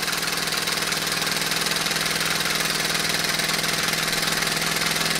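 Crescent No. 3 model steam engine made by CK in Japan running steadily, giving an even, rapid mechanical chuffing hum at moderate volume, close and continuous with no talk.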